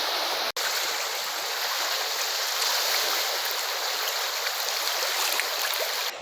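Río Azul flowing where the river widens and slows, a continuous broadband rush of running water, steady and fairly loud, with no talk.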